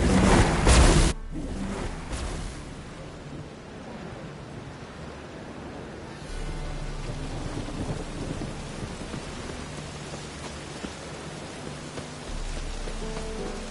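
Thunderstorm in The Witcher 3: a loud thunderclap opens, then steady rain hisses on with a low rumble returning partway through.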